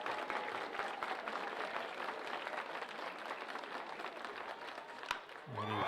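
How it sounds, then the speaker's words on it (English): Baseball crowd at a Dawgs vs Gulls game applauding and cheering steadily, a dense wash of clapping and voices that swells again at the end. "The crowd's getting into it."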